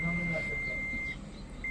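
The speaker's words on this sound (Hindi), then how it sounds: "इंडिकेटर जल रहा है मल्टीमीटर का, और बजर भी साउंड दे रहा है।" Continuity buzzer on a multimeter beeping while a capacitor is checked for a short on a 20-inch CRT TV power supply board: a steady high electronic tone that runs nearly unbroken, with a low hum underneath.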